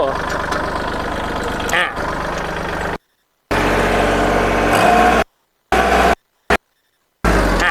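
A used Kubota L3608 tractor engine runs at a steady idle with the power take-off spinning, close and loud, with someone talking over it; the sound drops out abruptly several times.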